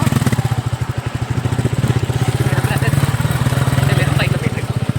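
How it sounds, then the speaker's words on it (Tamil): A motorcycle engine putters steadily up close while riding a road in Andhra Pradesh, its rapid regular thrum continuing throughout with wind and road noise around it. "வந்து பைக்ல போயிட்டு இருக்கோம்."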